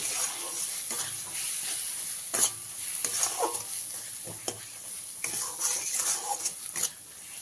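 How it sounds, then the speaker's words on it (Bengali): A spice mix of coriander powder, cumin powder and salt fries in oil for katla fish kalia, a steady sizzle with intermittent scraping stirs and clinks of a spoon in the pan, with no voices. "1 চামচ ধনে গুঁড়ো, 1 চামচ জিরে গুঁড়ো, স্বাদ মতো লবণ দিয়ে মশলাটাকে খুব ভালো করে ভেজে নিতে হবে।"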